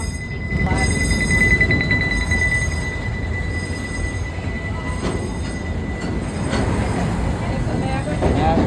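Steam locomotive CP&LE #44 Judy K passing in the dark at an amusement park, a steady close rumble of rolling cars and wheels with a faint high whine and occasional clanks throughout.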